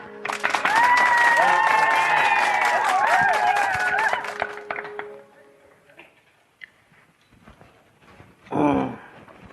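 A crowd breaks into loud, dense clapping that lasts about five seconds and then dies away, leaving near silence and a brief later clatter.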